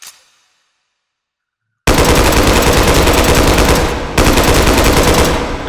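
An M1/M2 carbine fires full auto in the H3VR video game, a loud, dense, continuous burst after a moment of silence, with a brief pause partway through and no talk.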